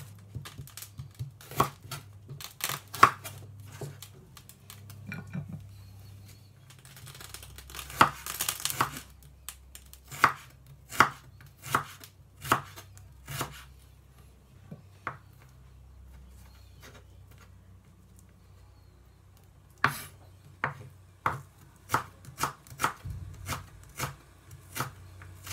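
A knife chops ginger on a board in a quick run of sharp, close taps, settling into brief bursts with short pauses between them.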